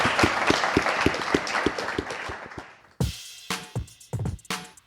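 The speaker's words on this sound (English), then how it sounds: "One more round of applause" Audience applause at the close of a marketing panel discussion, a rhythmic clapping that fades out over three seconds, followed by a few scattered, separate claps and thuds.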